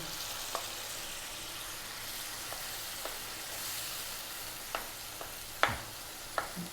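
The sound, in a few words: brain frying in a pan for curry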